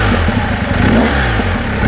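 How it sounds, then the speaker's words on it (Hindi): A BMW R1250 GSA boxer-twin motorcycle engine idles in neutral, a loud, close, continuous low throb with steady pulsing and a slight rise in revs near the middle. "That is a typical sound of boxer twins."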